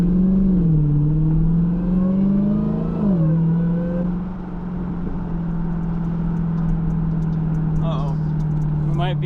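A Hellcat Redeye's engine blips and drops through a downshift, then settles into a loud, steady drone while cruising, with a voice briefly audible.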